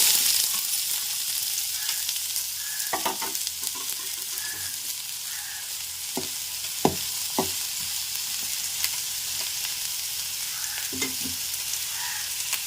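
Onion pieces fry in a pan with a steady close sizzle, broken by occasional stirring clatters and scrapes.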